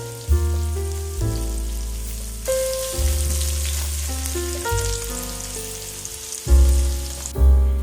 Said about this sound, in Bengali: পেঁয়াজটা একটু লাল লাল করে ভেজে নেব।